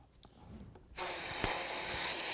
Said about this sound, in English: take the releasing agent and you spray it on the insides of all of these potential molds